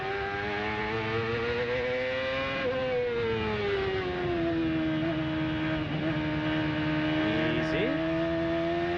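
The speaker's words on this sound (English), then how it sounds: "Listen how gingerly he applies throttle now." A CART race car engine, 1996–2002 era, drones steadily from onboard as the driver eases gingerly on the throttle, the pitch creeping up, dipping and rising again through short shifts, loud and continuous throughout.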